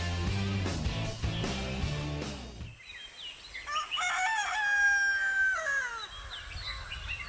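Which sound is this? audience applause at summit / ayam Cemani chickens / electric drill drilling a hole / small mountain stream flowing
ayam Cemani chickens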